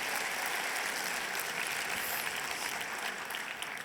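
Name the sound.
audience applauding student poster groups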